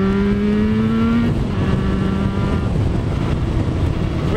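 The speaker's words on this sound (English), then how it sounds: "I'm sure you can tell from the wind noise that we're riding a motorcycle" Steady wind roar buffets the rider on a motorcycle heading along Ridge Road in Fitchburg, with a low engine drone underneath, loud and continuous throughout.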